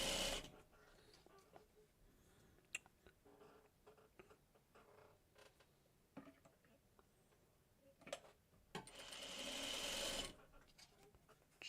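Sewing machine chain piecing quilt blocks for a Dresden block, heard as bursts of mechanical stitching with a sustained run near the end, amid scattered clicks and handling noise.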